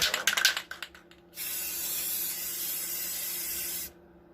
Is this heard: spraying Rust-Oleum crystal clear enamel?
yes